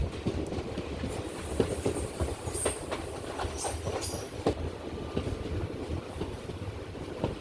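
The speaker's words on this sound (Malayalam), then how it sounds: "കേരളത്തിൻ്റെ അവസാനത്തെ റെയിൽവേ സ്റ്റേഷനായ പാറശാല റെയിൽവേ സ്റ്റേഷനിലേക്ക് ട്രെയിൻ എത്തിക്കൊണ്ടിരിക്കുകയാണ്" The Kanniyakumari Express rolls into Parassala railway station, Kerala's last station, with rhythmic wheel clatter and rumble from on board, plus a few brief squeals and clanks over a steady noise bed.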